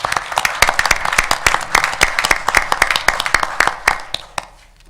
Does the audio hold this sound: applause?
yes